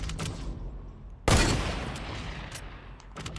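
Gunfire in Fortnite, a few sharp shots, then one loud close blast that rings out and decays, followed by fainter scattered cracks.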